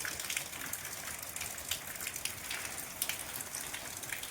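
Steady rain patters on surfaces outdoors, a dense, even hiss with occasional heavier drops, moderately distant and with no voices.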